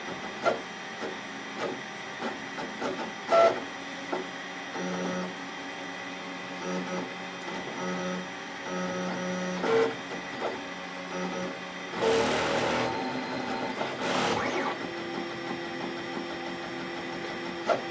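A 3D printer runs on shelving, its steady mechanical whir and stepper-motor buzz carrying rattling vibration from the shaking shelves, with a louder burst near the end.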